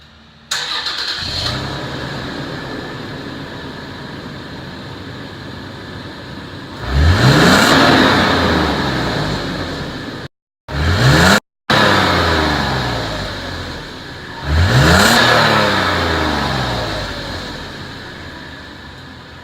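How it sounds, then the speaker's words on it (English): A 2016 Toyota 4Runner on its factory exhaust is started and settles into a steady idle, then gets two sharp revs that rise and fall, loud and close, with a brief dropout in between. "here we're going to start it up and just listen to the factory exhaust"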